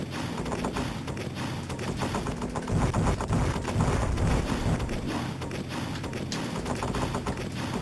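Steady rapid gunfire from an Amiga shoot-em-up plays as a dense, continuous rattle of shots over busy game noise and music, loud throughout with no speech.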